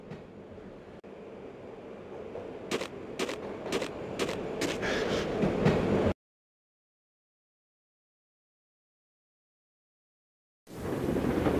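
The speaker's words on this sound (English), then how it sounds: "This was my second train ride of the night." Train ride in the video game Max Payne: a rumbling rail car with rapid clickety-clack wheel clatter that builds in loudness, then cuts to total silence for several seconds before the rumble returns.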